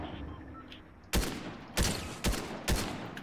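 Fortnite gunfire rings out as four sharp, evenly spaced shots, close and loud, cracking over a quiet game background without any voices.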